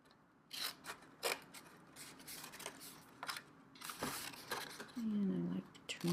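Scissors snipping paper tabs on a handmade note card holder: a run of small, sharp, close cuts and rustles spaced irregularly over several seconds, with a brief tonal rub near the end.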